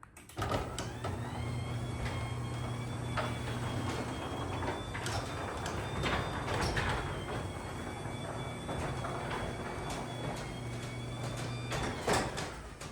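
A Chamberlain garage door opener with a correctly tensioned belt drives the door along in a smooth, even motor drone with a thin whine and occasional clatter, starting and stopping at the ends. Nearby and steady throughout, with no voices.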